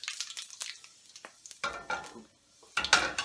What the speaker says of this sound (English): as you can see, the seeds are starting to pop